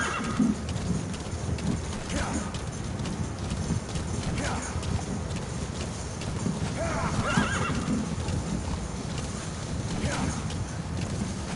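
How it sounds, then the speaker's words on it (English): A horse in Metal Gear Solid V gallops with rapid, rhythmic clip-clop hoofbeats under wind and rushing noise, with several loud neighs and whinnies rising out of the mix. "I'm gonna call my horsey"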